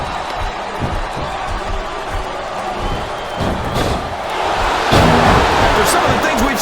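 Arena crowd noise from a WWE SmackDown vs RAW 2007 women's wrestling match on Xbox 360, a steady roar of cheering and shouting with thuds of slams, swelling louder near the end, with commentators talking throughout.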